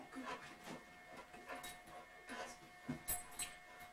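Dog during a veterinary orthopedic manipulation, with soft repeated whimpers and whines in short bursts, close and faint, amid quiet handling sounds.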